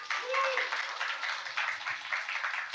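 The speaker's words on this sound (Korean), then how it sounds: "여러분 큰 박수 부탁드립니다." Audience at a Korean talk concert applauds steadily, a dense, moderately quiet patter of clapping with brief voices or cheers mixed in.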